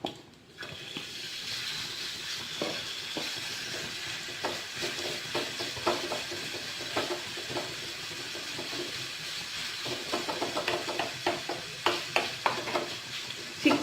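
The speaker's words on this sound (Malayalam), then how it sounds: "ഇനി നമുക്ക് നമ്മുടെ ചിക്കൻ ഇതിലേക്ക് ഇടാം." Chicken pieces frying in a pan of ginger and garlic for a Kerala-style tawa chicken, a loud, steady sizzle with scraping stirs that grow sharper and more frequent toward the end, no voices.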